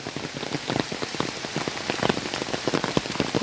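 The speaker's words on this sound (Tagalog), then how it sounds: "Ang lakas naman ng ulan." Heavy typhoon rain pounding a surface, a dense, constant patter of drops hitting close by without pause.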